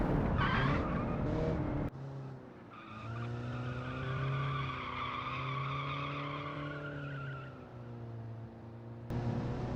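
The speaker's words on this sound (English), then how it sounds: "you get a lot of one tire fire because of the open differential" A game car in Automation with an open differential spins one wheel, its engine droning in a sustained rising and falling wail with tire squeal, loud and close, ending abruptly and then resuming.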